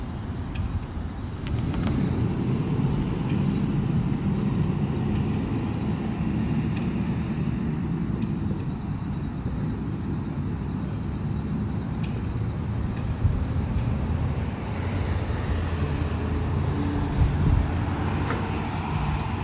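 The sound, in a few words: car driving past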